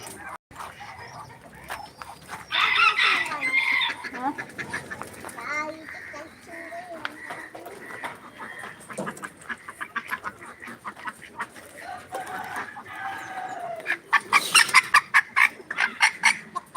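Chickens cluck and squawk in a busy farmyard, with a rooster crowing, pigeons and other fowl calling; a person talks intermittently over the flock.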